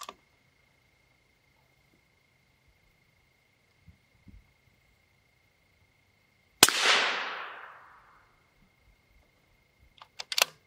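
A single loud rifle round strikes a ShotStop Duritium Level IV body armor plate dead center, a sharp crack with a bright ringing decay over about a second, followed by a few faint clicks and small knocks.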